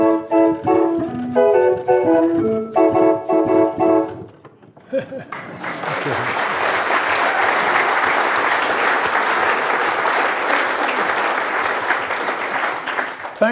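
After a few seconds of mechanical organ music fades out, an audience breaks into sustained, even applause that carries on steadily to the end.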